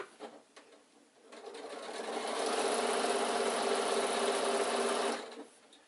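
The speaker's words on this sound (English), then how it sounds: "Starting at the side seam, back tack and sew all the way across." Sewing machine stitching across an insulated picnic bag, ramping up to a fast steady whirring run for about three seconds, then slowing to a stop, close and alone.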